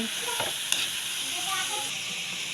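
Vegetables for pinakbet sizzle in a hot pan as they are stirred, a soft steady frying hiss with faint scraping, quiet and close.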